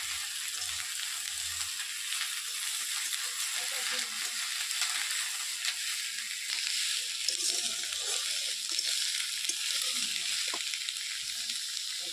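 Potatoes fry in a pan with a constant close sizzle, joined by soft scraping and stirring clicks partway through, all without any speech.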